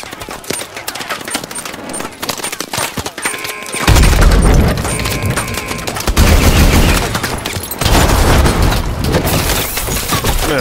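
Dense automatic gunfire and heavy launcher blasts hammer away at a Titan in Call of Duty: Advanced Warfare, loud and continuous with booming hits stacked on top, while a voice shouts over the battle.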